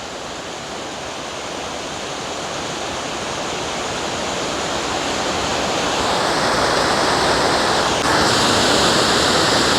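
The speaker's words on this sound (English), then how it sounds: "You can see a lot more volume of water, creating a waterfall" Steady, full rush of a waterfall on a creek near Catawba Falls, Old Fort, North Carolina, a continuous broadband roar that grows slightly louder throughout, with no voices.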